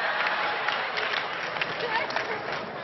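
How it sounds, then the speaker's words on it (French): Comedy-show audience applause at a cinema, a steady dense wash of clapping that holds at an even level throughout with a little crowd murmur underneath. "applaudissez pour mon père ce soir."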